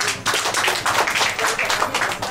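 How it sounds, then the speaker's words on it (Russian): A group of young people clapping at an event in Moscow Oblast, with dense, fairly loud applause that rises briefly and then carries on evenly. "Аплодисменты."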